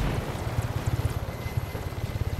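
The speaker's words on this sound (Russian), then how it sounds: "Ну, катерочки нам не особо мешают." Motorboats in the video game Just Cause 3 drone as a steady low engine rumble with a rapid pulsing throb, moderately close and alone with no talk.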